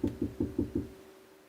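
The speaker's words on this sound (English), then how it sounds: "started knocking on my driver's side window" Five sharp knocks on a car's driver's side window, spaced evenly about a fifth of a second apart, close and distinct, then fading into quiet.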